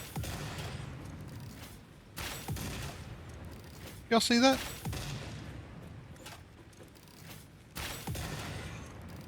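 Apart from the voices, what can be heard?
explosions and gunfire in a video game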